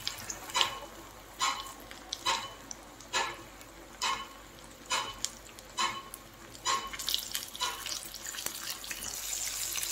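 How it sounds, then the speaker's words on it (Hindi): Chicken pieces deep-fry in hot oil on a medium flame for KFC-style fried chicken, a close bubbling sizzle with regular splashy bursts under a continuous hiss. "मीडियम फ्लेम में 6 से 7 मिनट तक डीप फ्राई करने से"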